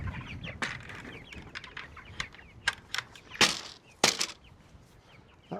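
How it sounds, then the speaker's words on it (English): Chickens clucking in scattered short calls at close range, with a few sharper squawks and brief bursts of wing flapping over a low background. "Gosh, I'm some good looking chickens,"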